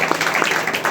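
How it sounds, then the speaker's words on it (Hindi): An audience at a youth meeting claps on request, a brief burst of dense, steady applause from a roomful of people, moderately loud and close. "तो एक अच्छा ताली बजाते"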